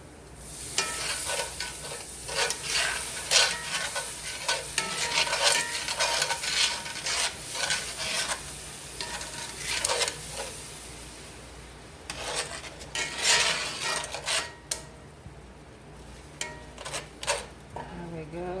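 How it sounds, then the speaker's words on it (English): Whisk or spoon stirring milk into flour in a pan for chicken florentine, giving a steady scraping, sloshing rhythm with bursts of quicker strokes and faint sizzle underneath, close and moderately loud. "And just keep stirring it."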